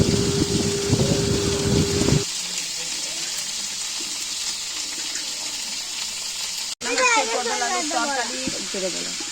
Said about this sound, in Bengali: আর পটলটা ভাজা হচ্ছে